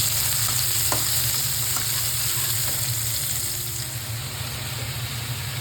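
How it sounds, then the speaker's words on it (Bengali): Onion frying in oil for a fish gravy, a close, steady sizzle with a few faint stirring knocks, continuous and even throughout. "আমি এখন এই যে গ্রেভি রেডি করার জন্য পেঁয়াজটা দিয়ে দিচ্ছি"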